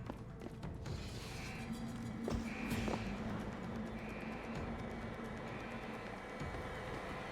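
A rolling robot enemy trundles along in Deus Ex: Human Revolution, giving a steady mechanical rumble with a whining tone over a low hum. It stays moderately distant and continuous throughout, with no talk.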